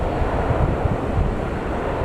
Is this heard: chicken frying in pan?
no